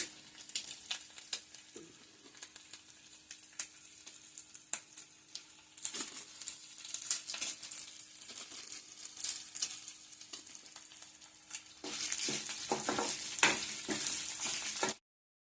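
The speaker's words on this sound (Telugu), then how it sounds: "అదే నూనెలో మినపప్పు ఎల్లిపాయలు జీలకర్ర వేసేస్తున్నానండి" Urad dal, garlic and cumin fry in hot oil for a brinjal chutney, giving a continuous crackling sizzle with scattered sharp pops. The sizzle grows louder and denser toward the end.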